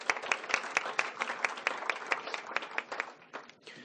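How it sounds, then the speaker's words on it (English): Audience applause at a school district foundation's superintendent's breakfast: a dense, steady crowd of clapping hands, close and sustained, thinning and fading toward the end. "How about a big round of applause for everyone?"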